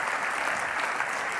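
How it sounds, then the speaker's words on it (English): A brief burst of steady audience applause for a film's cast and crew at a festival Q&A, dense clapping throughout with no gaps. "Guys and girls, come on stage and give them a warm round of applause"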